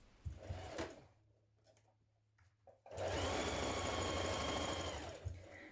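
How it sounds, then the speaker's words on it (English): A sewing machine stitches two pieces of dress fabric together, with a short burst first and then a longer steady whirring run after a pause, fairly quiet and close. "stitching the two pieces together"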